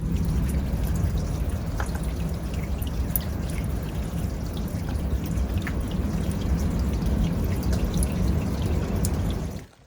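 Spring water seeps out of limestone rock and drips outdoors, a continuous soft trickle with scattered clear drips, moderately close and steady until it fades at the very end.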